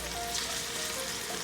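Ham begins to sizzle in a soup pot for ribollita, a soft, steady crackling fry that stays fairly quiet and close, with no talking.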